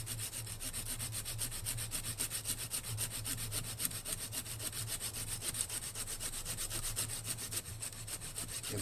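A Coghlans folding saw cuts an angled notch into a thick wooden branch outdoors for a primitive camp chair, with fast, steady back-and-forth rasping strokes close up and no pauses.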